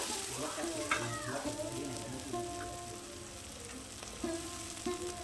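Spices with ginger garlic paste and chopped tomato fry in a pan, giving a soft, continuous sizzle with scattered spatters and a few light clinks of a utensil stirring against the metal.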